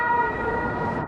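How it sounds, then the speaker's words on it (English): Emergency vehicle siren wailing on a street in Rome, a loud steady electronic tone that holds briefly and then cuts off, heard alone without talk. "Roman sirens are also a part of Rome"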